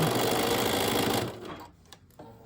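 A sewing machine stitches through rickrack trim, a loud steady rapid mechanical whirr for over a second, then stopping and leaving faint handling clicks.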